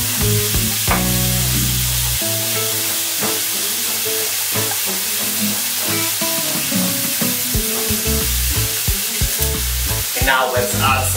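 Vegetables for a grilled veggie salad sizzle on a griddle pan, a steady bright frying hiss broken by soft scraping and stirring sounds.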